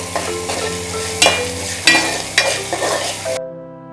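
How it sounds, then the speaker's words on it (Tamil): Ingredients sautéed in a pan crackle steadily, with several louder scraping bursts as a spatula stirs them, over faint steady background music that ends abruptly near the finish. "நல்லா வதக்கி விடுங்க. தீஞ்சு போயிடக்கூடாது."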